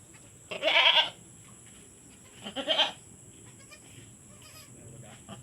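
A goat bleats twice, two short loud cries about two seconds apart, with quiet background in between.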